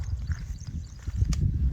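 Hooves clip-clop on hard ground in an uneven, shuffling rhythm, fairly close, with low rumbling movement throughout and no talking.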